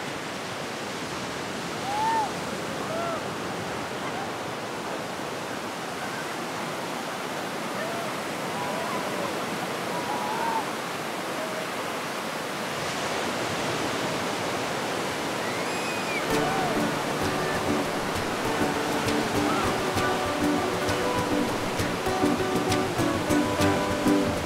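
Ocean surf washing onto a beach, a constant broad roar of breaking waves that grows fuller and louder partway through, with faint voices and thin tonal sounds drifting over it.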